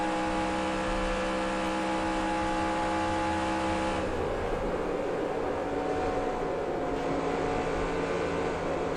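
Race truck engine in NASCAR Racing 2003 Season, a steady loud droning whine holding pitch at high revs, then shifting to a rougher, grittier tone partway through as throttle eases into a corner.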